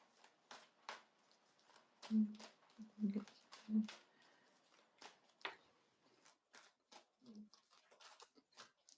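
Tarot cards being shuffled, with a few cards slipping and falling onto a surface: soft scattered flicks and taps under intermittent quiet talk.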